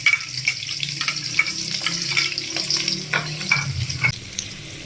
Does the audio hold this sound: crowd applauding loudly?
no